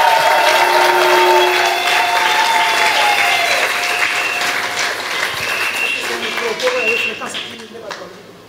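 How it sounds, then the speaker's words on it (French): A church congregation breaks into loud, sustained applause mixed with voices calling out. Sung or shouted tones ride over the clapping, which fades gradually toward the end. "Acclamons très fort le Seigneur."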